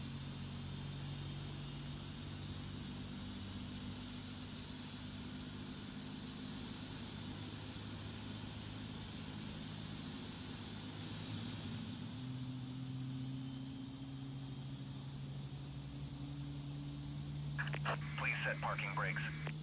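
Engine two of a PMDG Boeing 777-200ER spooling up in Microsoft Flight Simulator 2024, a steady low hum and rising turbine whine, with a speaker talking over it and a brief louder burst near the end.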